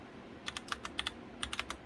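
Quick, light clicks of keys on a computer keyboard in a home mining-rig setup, about a dozen taps in two short bursts, close and faint.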